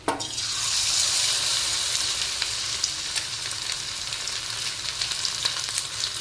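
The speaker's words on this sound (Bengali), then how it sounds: "এক এক করে আমি মাছগুলো তেলে দিয়ে দেবো।" Amude fish, added one by one by hand, fry in hot oil in a wok, a sharp sizzling burst at the start settling into a steady crackling spatter with small pops, close and loud.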